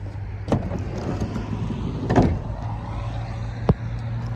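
Sliding side door on a 2012 Renault Kangoo Z.E. electric van, heard as a few close mechanical clunks and a rolling slide over a steady low hum.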